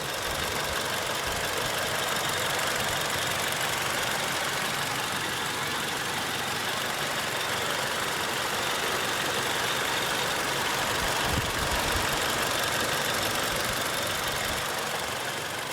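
A 2014 Toyota Innova engine idles in a steady, even drone with a slight knocking texture, continuous and fairly close, with no speech over it.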